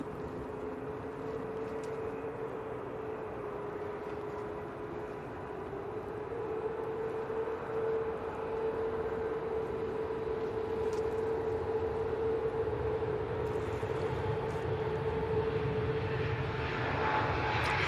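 Airliner takes off at Manchester Airport: a rising jet engine roar that starts distant and builds steadily over many seconds into a loud, sustained whine and rumble, with no talking.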